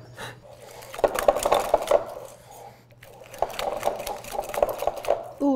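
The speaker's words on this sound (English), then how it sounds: "Perhaps we should switch to a whisk." A whisk clatters and scrapes rhythmically against a pan, working lumps out of a mixture in two busy bursts separated by a brief lull.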